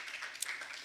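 Scattered hand-clapping from a congregation at a Korean Presbyterian church service in Hawaii, faint and brief, a soft patter of claps with no voices over it.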